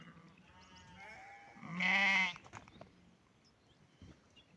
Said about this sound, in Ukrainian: романовських овець за сканіцем. Оце оце приблизно так котяться вівці.